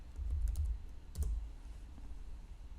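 Keys tapped on a computer keyboard while a value is entered into a field in a dashboard program, a couple of quiet bursts of clicks separated by a pause, close and faint with no talking.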